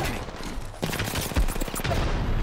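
Rapid bursts of gunfire crackle in a video game firefight, dense automatic shots coming in quick clusters at mid distance, steady and loud throughout.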